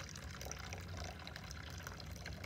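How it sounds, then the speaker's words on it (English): Hot water, half a cup, pours into a birdseed feeder mixture, giving a steady, close splashing wash of liquid with no talk over it. "So I'm going to measure a half cup of hot water"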